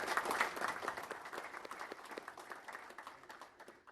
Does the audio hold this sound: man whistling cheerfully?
no